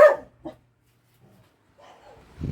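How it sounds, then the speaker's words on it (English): Dogs bark in a home in the Philippines, a couple of short, loud barks at the start, then near silence with faint sounds before a bark or rustle returns at the end. "the dogs are barking"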